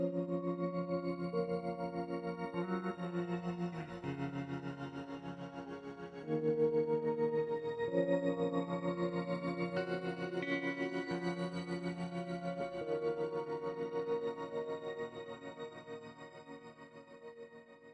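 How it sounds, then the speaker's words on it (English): A sustained, shimmering ambient guitar pad with a rapid stuttering tremolo, made on an Axe-Fx, washed in reverb and echo, slowly shifting chords with no voices. "what this should give us is a really stuttery sound, which still has those nice crystals and reverb lines in it"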